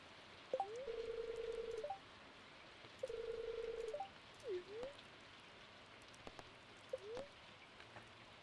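Phone dialing tones in the Stardew Valley farming game sound as two longer steady beeps a second apart, then two short chirps, all faint over a quiet hiss.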